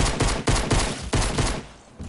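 Fast bursts of automatic gunfire in a shooter video game, several loud close volleys in quick succession that fade toward the end, with no talking.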